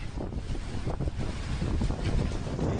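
Strong cyclone wind from Super Cyclone Amphan roars steadily across West Bengal, a dense, buffeting rush battering the microphone without a break and with no voices.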